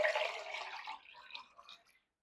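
Water splashes into a pressure cooker for ghee rice with bone kuruma, a short, fairly faint pour that fades out within two seconds, with no one talking.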